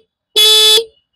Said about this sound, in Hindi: और हॉर्न की आवाज़ मैं आपको सुनाता हूँ